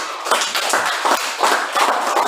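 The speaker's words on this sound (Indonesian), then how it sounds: "Oke, tepuk tangan semuanya." A classroom of students claps together in a short burst of rapid, slightly uneven hand claps, close and fairly loud, with no talking over it.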